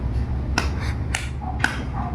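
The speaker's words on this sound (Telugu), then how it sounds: "స్వామిని చక్కగా ప్రార్థించి ఒక 3 సార్లు చప్పట్లు కొడతారన్నమాట" Three sharp hand claps ring out, evenly spaced about half a second apart, during Tiruvaradhana temple worship, clear against a low steady background hum.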